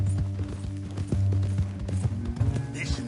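A horse's hooves clip-clop at a steady walking pace in Red Dead Redemption 2, with a rider tied up across its back, fairly close and mixed with low ambient sound.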